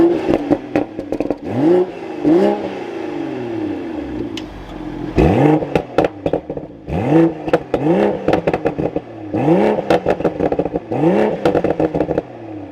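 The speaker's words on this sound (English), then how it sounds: "So let's fire this up again." A 2024 BMW Z4 M40i starts up and then blips through a series of sharp revs, each rising and falling in pitch, loud and close with brief pauses between pulls.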